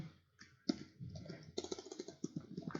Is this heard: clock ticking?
no